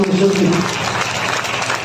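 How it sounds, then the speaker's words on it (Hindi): A burst of clapping from a church congregation during a sermon that swells in after a brief voice and continues as a steady, dense patter. "जोर से ताली बोलो, ताली बोलो"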